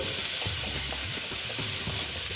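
Pumpkin and potato pieces being stirred and fried in a pan, a continuous loud sizzle with quick rhythmic scraping strokes of a spatula running through the whole short stretch.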